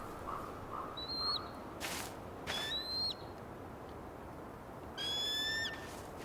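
In the game Tell Me Why, an eagle gives several sharp, high descending cries in short bursts. The cries stand out clearly against quiet outdoor ambience, with no voices.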